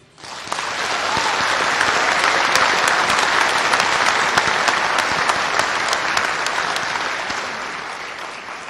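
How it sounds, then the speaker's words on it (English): After a poem recital at an anti-violence event, an audience bursts into sustained, roaring applause that builds quickly, holds full and dense for several seconds, then just begins to thin. "Can we give her another round of applause, please, ladies and gentlemen, Miss Yvette Renagi."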